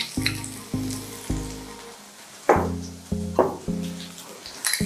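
Garlic and chilli sizzle in a hot pan, the frying flaring up in several separate bursts as the ingredients go in, each sizzle steady and close, with no talking.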